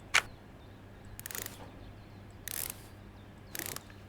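Screws being driven in during Electrician Simulator gameplay, heard as three short mechanical ratcheting bursts spaced about a second apart after a sharp click, fairly quiet over a low steady hum.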